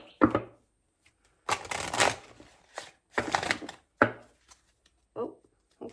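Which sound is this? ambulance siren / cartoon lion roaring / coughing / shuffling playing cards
shuffling playing cards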